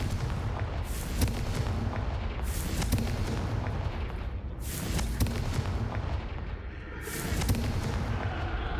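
Confringo blasting spells in Hogwarts Legacy go off as a series of heavy, booming bursts, roughly four loud blasts spaced a couple of seconds apart over a rumbling background, with no talk.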